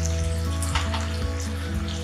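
Chilli potatoes sizzle in a pan over a high flame as soy sauce goes in, giving a steady close frying hiss with small crackling pops.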